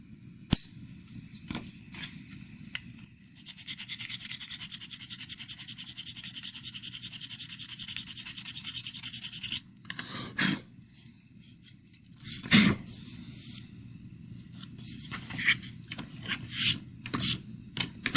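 A file rasps in steady strokes to take the nib off a small model part for a diorama or train layout, close and continuous, followed by scattered knocks and handling clicks.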